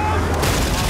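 A short, rumbling volley of gunfire and booming impacts during a boat battle in the video game Uncharted 4, dense and continuous for under a second.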